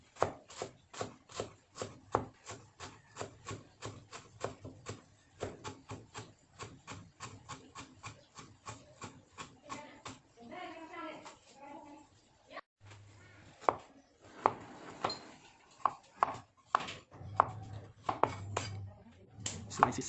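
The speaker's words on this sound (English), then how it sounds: "Then slices lemongrass." A knife slices lemongrass on a cutting board in a quick, regular run of crisp close chops, pausing midway for some rustling handling before the sharp cuts resume more unevenly.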